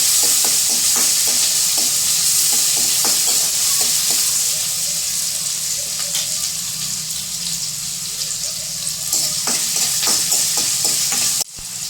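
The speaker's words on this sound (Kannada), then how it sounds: "ಈ ಈರುಳ್ಳಿ, ಟೊಮೆಟೊ ಎಲ್ಲ ಹಾಕಿಬಿಡ್ರಿ. ಸ್ವಲ್ಪ ತಿರುಗಾಡ್ರಿ, ಸ್ವಲ್ಪ ತಿರುಗಾಡಬೇಕು." Onion and tomato frying in oil in a pan while being stirred, a constant bright sizzle with repeated spoon scrapes and clinks, close and loud throughout.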